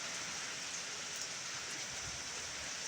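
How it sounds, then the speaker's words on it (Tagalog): Heavy typhoon rain pours down steadily outdoors, a dense, continuous hiss of rain on surfaces, fairly loud and unbroken, with no voices. "Ayan guys, ang lakas ng bagyo. Umaga na pero may bagyo pa."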